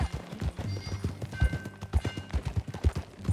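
Hooves of a galloping horse in Red Dead Redemption 2 clop in a quick, uneven rhythm, close and fairly loud for the whole stretch, with faint high tones behind.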